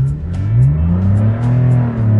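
A 2012 Porsche 911 Carrera S engine revs up and holds high for a launch-control start, a loud, close, sustained rising and wavering engine drone with no talk over it.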